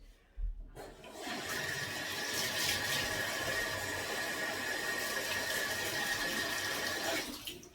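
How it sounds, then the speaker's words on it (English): Running water rinses red dye out of hair, a steady, fairly loud splashing rush that follows a brief bump and keeps going for about seven seconds before it stops abruptly, with no talking. "So it's time to rinse this out. So just a little bit of water"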